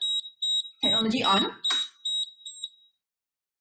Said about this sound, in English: You hear the beeping. It's beeping, it's beeping.